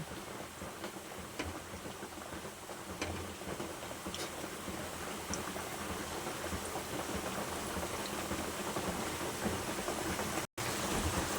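Fish roe fritters sizzle in hot oil in a pan, a steady close crackling hiss that holds evenly throughout with one brief dropout near the end and no talking.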